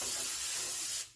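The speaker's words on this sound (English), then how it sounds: "spray it with a little Pam." Pam cooking spray released in one steady hiss into a half pan, a single continuous burst lasting about a second before cutting off, close and fairly loud with no talking.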